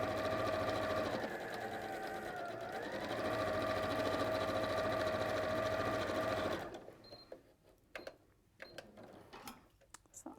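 A domestic sewing machine runs a steady stitching seam on a satchel with a side pocket for about six and a half seconds, with a brief slowdown partway, then stops, leaving quiet handling clicks and knocks.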